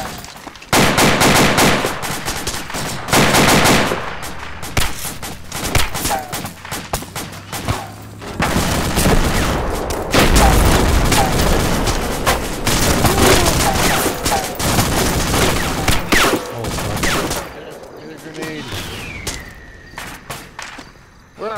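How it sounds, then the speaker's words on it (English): Heavy automatic gunfire from a .50 caliber machine gun in a Vietnam-era war video game, loud sustained bursts and dense fusillades with thuds and booms, mixed with other weapons over most of the stretch before thinning near the end. "I think I just saw a bullet go through the wall. That's 50 cal."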